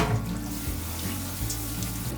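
Cold water runs steadily from a kitchen tap, a continuous close rushing splash that stays even throughout.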